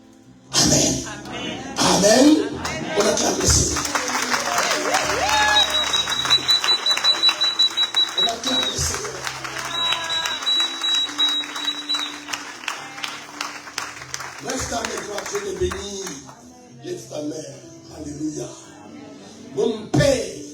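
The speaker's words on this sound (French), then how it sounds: "On acclame le Seigneur." A congregation applauding and cheering to acclaim the Lord in a church service, a sustained dense wash of clapping and voices with shouts rising over it, fading out toward the end.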